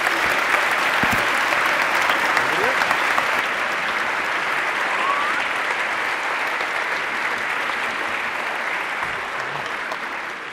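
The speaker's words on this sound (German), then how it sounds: "Also nochmal einen dicken Applaus für Team Scientastic." An audience at a Frankfurt science slam gives Team Scientastic a long, loud burst of applause, dense and steady for about ten seconds, with some cheering mixed in and a slight fade toward the end.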